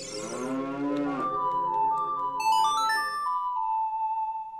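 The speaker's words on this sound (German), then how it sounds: "Hier haben wir Kühe." Cattle in the game Ocarina of Time, played as a randomizer, give a long synthesized moo, followed by a bright rising chime jingle and a sustained tone.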